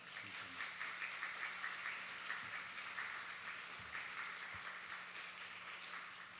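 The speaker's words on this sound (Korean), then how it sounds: "우리 큰 박수로 환영해 주시고 격려해 주시기 바랍니다" A church congregation at a Sunday worship service applauds to welcome a pastor, giving a soft, distant, even patter of clapping that carries on steadily with a low hum beneath.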